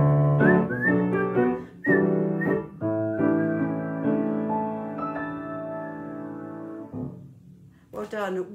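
Several people whistle a cheerful tune together in clear, sustained melodic phrases with short pauses, loud and close, with a brief burst of other sound at the end.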